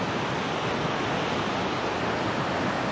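Steady, rushing water flows along a canal, a continuous broadband wash with no pauses, loud and close, and no voices over it.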